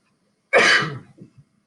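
A single sharp sneeze bursts out close by, followed by a brief trailing breath and a faint low rustle.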